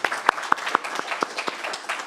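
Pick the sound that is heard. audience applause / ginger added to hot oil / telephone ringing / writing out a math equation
audience applause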